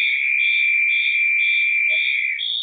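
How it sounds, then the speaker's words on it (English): An outside fire alarm on a fuel pump sounds continuously, a loud, steady electronic tone with a regular pulsing warble. "It's the outside fire alarm on the pump."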